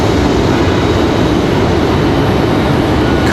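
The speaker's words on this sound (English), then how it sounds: "We're gonna have this CRJ come in here." A CRJ regional jet taxiing at Raleigh-Durham airport, giving a steady, loud broadband engine roar with a low rumble that holds constant throughout, no voices.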